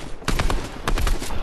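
Quick Fortnite gunfire, two close clusters of sharp shots fired in fast succession over steady game noise.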